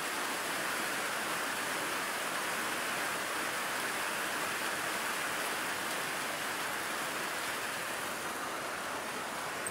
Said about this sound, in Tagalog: Hindi kami dito, malakas ang ulan dito